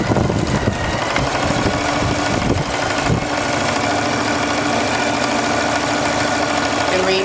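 Sewing machine stitching a 5/8 french seam: loud, continuous motor buzz with rapid mechanical chatter throughout, close up, with a voice faintly beneath it.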